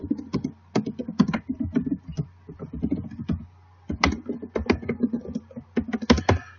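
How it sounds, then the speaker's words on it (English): Typing on a computer keyboard while entering resume details into a Word document, with quick irregular bursts of close key clicks and short pauses, alone without talk. "So I'm going to type that in."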